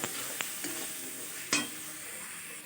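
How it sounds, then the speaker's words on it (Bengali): Spice paste with turmeric sizzles steadily in a pan, close and moderately loud, as a spoon stirs it and gives a few sharp scrapes and clinks against the metal. "ভালো করে কষাতে হবে এই সময় গ্যাসটা একটু কমিয়ে নিতে হবে না হলে মশলাটা পুড়ে যাবে"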